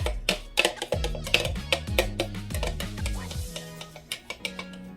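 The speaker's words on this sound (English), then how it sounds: "I like to stir it up just a little bit at the bottom" A spoon or butter knife stirs popover batter in a bowl, giving a quick run of close, sharp clicks and scrapes against the sides in an uneven rhythm, with no voice.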